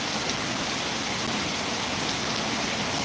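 Heavy monsoon rain pours down steadily in Dantiwada taluka, a dense, even hiss of falling water that holds at the same strength throughout with no voices.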